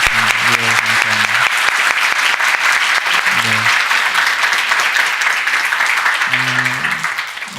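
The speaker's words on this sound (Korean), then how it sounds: "잠깐 일어나시면 우리가 한번 격려의 박수 한번 부탁드리겠습니다" A church congregation claps at a Sunday Christmas service to honour the choir conductors, a loud, dense, continuous round of applause lasting several seconds as organ-like chords sound briefly beneath it.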